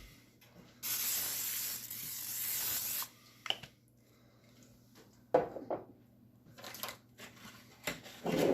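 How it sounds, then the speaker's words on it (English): Cooking spray hisses into a plastic-wrap-lined pan in one steady burst lasting a couple of seconds, followed by quieter handling clatter and short rustles nearby. "You just take a little bit of cooking spray."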